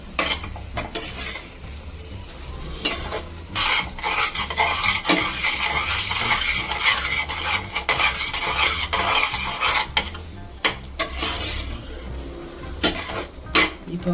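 A spoon scrapes and stirs tomato chutney in a pan over medium heat, with soft sizzling beneath, irregular scraping strokes and occasional clinks against the pan, close and steady with no talking.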